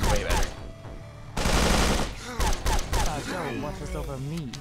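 Rapid gunfire from a weapon in the video game SOTS: The Pit, bursts of shots coming in loud, dense volleys with short gaps, mixed with someone talking over the shooting.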